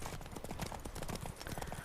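Horse hooves clip-clopping in the video game Witcher 3, a steady rhythmic trot of hoofbeats up close, alone without talk.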